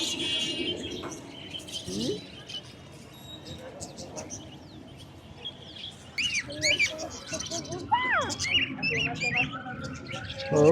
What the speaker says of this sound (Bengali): ওই দেখো পাখি দেখেছো ওই দেখো পাখি ছোট্ট ছোট পাখি